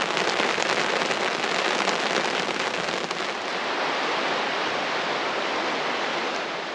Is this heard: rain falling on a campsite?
yes